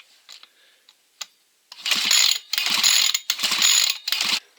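An old weedeater's recoil starter is yanked several times in quick succession, each pull giving a loud ratcheting whir, after a few faint clicks and handling noises.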